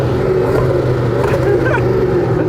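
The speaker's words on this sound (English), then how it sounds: "Go on, rev it up." A Hennessey Venom F5 hypercar engine revs loudly and steadily up close, with a dense, continuous roar and a few sharp pops toward the end.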